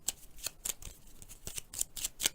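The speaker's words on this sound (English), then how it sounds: "Right, let's shuffle the cards." Digital card shuffling in a board game, a quick series of crisp riffling and snapping bursts spaced irregularly, close and fairly quiet, with no voices.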